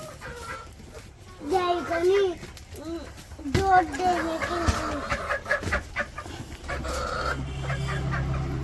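Chickens on a poultry farm cluck in repeated short, rising bursts close by, with a people talking intermittently and a low background hum toward the end.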